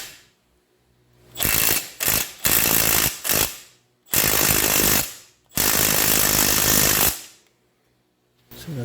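Lower control arm nut on a 2015 Jeep Patriot 2.4 being tightened with an impact wrench, several loud rattling bursts of a second or so each separated by short pauses, close by.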